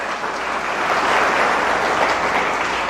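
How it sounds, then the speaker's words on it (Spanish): A church congregation claps steadily together, a dense, sustained wash of applause swelling slightly in the middle with no voices over it. "¿Cuántos pueden aplaudir al Señor?"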